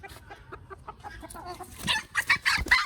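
A rooster clucks in short bursts, starting soft and scattered, then growing louder with several sharp, agitated squawks near the end.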